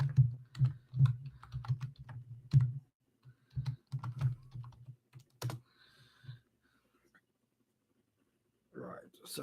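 Rapid clicking of typing on a Mac computer keyboard comes in close, steady bursts, then thins into a few scattered keystrokes before a faint murmured voice near the end.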